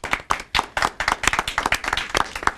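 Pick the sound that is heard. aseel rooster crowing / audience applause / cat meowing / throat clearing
audience applause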